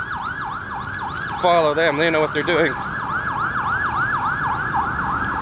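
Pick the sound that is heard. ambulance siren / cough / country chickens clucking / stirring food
ambulance siren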